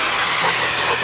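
Aerosol carburetor and brake cleaner sprayed onto a 2004 Chevy Monte Carlo 3.4 engine with its intake manifold off, giving a steady, loud, close hiss that runs continuously for about a second.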